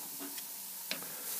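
Apples frying over a bed of coals on a grill produce a soft, continuous sizzle with a few light clicks and taps from stirring, faint and close, with no talking.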